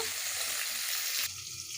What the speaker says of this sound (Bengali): তেল গরম হয়ে গেছে দিয়ে দেবো মাছ মাছগুলোকে ভালোভাবে ভেজে নেব